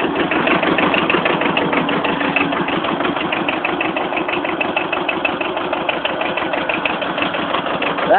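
An older Kubota tractor engine idles after a cold start with a fast, even diesel chatter, close and constant with no talk.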